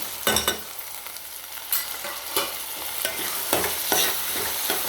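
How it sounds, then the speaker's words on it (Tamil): Tomatoes sautéing in a pan for Tamil kara kuzhambu after garlic and onion have softened, a steady low sizzle broken by several sharp scrapes and clinks of a stirring spoon, close and alone. "தக்காளி நல்லா வதங்கணும்"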